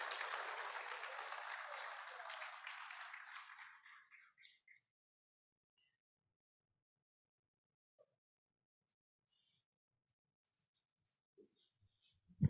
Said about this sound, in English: I request members of the audience for a big round of applause for her many laurels